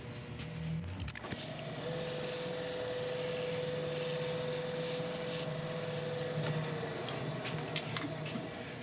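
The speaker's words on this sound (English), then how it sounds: "I'm going to rub this in with the lathe spinning." Abrasive paste rubbed into rotten elm stabilised with epoxy resin as the piece spins on a wood lathe, giving a steady, close, continuous rubbing hiss over the motor's even hum for several seconds.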